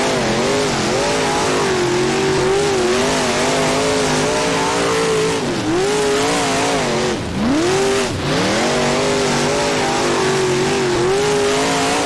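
A dirt modified race car on the East Bay track in rFactor roars loudly and steadily, its engine pitch rising and falling through the gears with brief lifts off the throttle, close and continuous with no voices.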